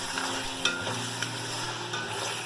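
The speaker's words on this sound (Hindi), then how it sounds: "और अब इसको हमने भून लेना है गोश्त के साथ" Boiled mutton with onions fries in hot oil in a large pot for daigi yakhni pulao, sizzling steadily while a spoon stirs and clinks a few times.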